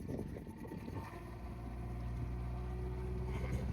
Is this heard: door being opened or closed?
no